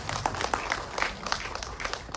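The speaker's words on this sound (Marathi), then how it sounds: "टाळ्या होऊ देत पहिल्यांदा" An audience at a movie trailer launch event claps for the writer, a dense patter of many hands at moderate distance, steady for a couple of seconds with a few louder individual claps standing out.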